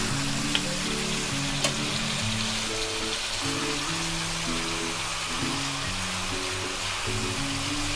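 Chicken tikka pieces sizzle in a pan after being flipped, giving a steady, dense crackle that runs evenly throughout with a couple of faint ticks and no talking.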